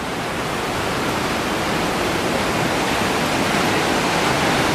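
Steady broadband rush of a stream flowing beside a hiking trail in Yosemite National Park, a constant close wash of water holding even in loudness throughout, with no voices.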